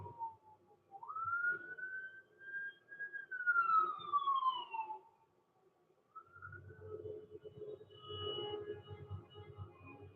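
An ambulance siren wails along a city street, a rising and falling tone that sounds distant and muffled, fading out and returning more faintly over low traffic rumble.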